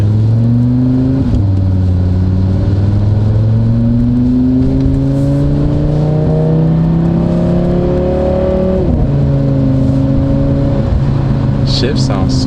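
A 2022 Audi RS3 with a new aftermarket exhaust, engine loud and close as it pulls through the revs with rising tone, dropping sharply at gear shifts, with speech faintly underneath.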